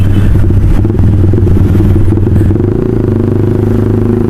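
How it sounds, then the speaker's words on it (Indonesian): Yamaha All New Vixion 150 cc motorcycle with a Proliner aftermarket exhaust, running with a steady, loud, close engine drone and some rattling clatter throughout. "Yakin lu belum masang Proliner knalpotnya?"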